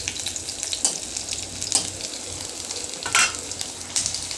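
Fish with green chilies sizzles and crackles steadily in a hot pan, close and fairly loud, with a few brighter spits and stirring scrapes rising above the constant fry.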